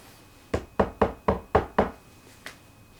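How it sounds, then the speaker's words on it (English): Six knocks on a wooden shed door: a quick run of five sharp, evenly spaced raps, then a pause and a single fainter knock, close by with no voices. "knock on the door"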